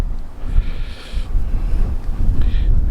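Wind gusts roar across an open scenic overlook on the cliffs of Kentucky's Red River Gorge, a loud steady low rumble buffeting the microphone with stronger surges throughout.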